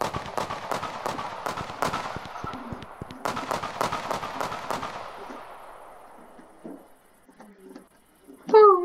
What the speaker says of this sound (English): That firework was so cool.